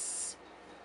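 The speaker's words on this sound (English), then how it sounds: "let's spray some alcohol." Alcohol spritzed from a spray bottle onto a folding laptop stand, a single short hissing burst lasting about a third of a second, close and fairly loud, then quiet.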